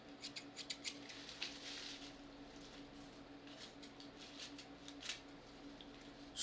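Repeated crisp scissor snips, quick and close, in an irregular rhythm over a faint steady hum.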